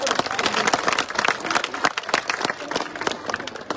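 Audience applause at a public gathering honouring a soldier's parents, dense steady clapping from a large crowd filling the whole stretch, loud and close, with some voices mixed in.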